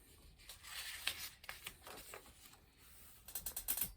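Handle of a magic golden grinder being cranked as a storybook sound effect: faint clicking, ratcheting ticks at an uneven pace, quickening into a busier cluster at the end.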